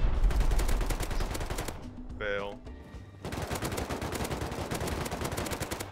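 Rapid automatic gunfire rattles loudly at a helicopter in the game Rust. A dense burst fills the first couple of seconds, a short tonal whine takes over briefly, and then sustained firing resumes through the rest of the clip.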